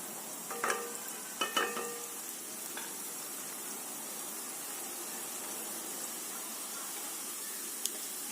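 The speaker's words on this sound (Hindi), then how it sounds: "सौटे करेंगे इसको।" Oil sizzles and hisses steadily in a pan as chickpeas are sautéed, with a few quick clattering stirs near the start before the frying settles into a constant crackle.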